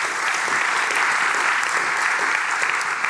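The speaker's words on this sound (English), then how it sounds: "Give him a warm applause." An audience at a Dutch graphic design talk applauds steadily, a dense, sustained wash of clapping that stays loud and even throughout, with no voices standing out.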